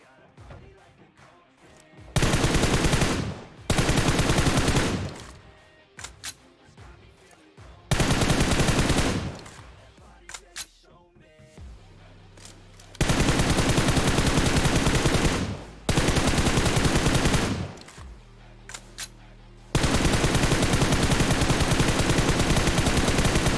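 Drive-by shooting in the mobile battle royale game PUBG Mobile, with sustained automatic gunfire in loud, dense bursts several seconds long, separated by brief pauses, and the longest burst closing the sequence.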